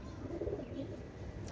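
High-flying teddy pigeons coo softly in a low, murmuring burst, faint and brief against background hum.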